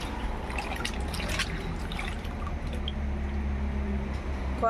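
Water sloshes and drips as mangoes are rinsed in a container, with soft splashes and trickles up close, no voices.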